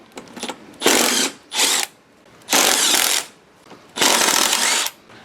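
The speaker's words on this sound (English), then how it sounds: "I'm going to take these 4 bolts out." Ratchet with a 1/2 inch socket backing out the bolts of a bad spindle on a Cub Cadet 833E mower: four loud, close bursts of rapid clicking, each a half to one second long, separated by short pauses.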